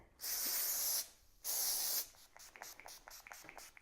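Two long hissing bursts from an aerosol texturizing spray can, close by, followed by soft brushing and rustling of hair during a textured bun up-do.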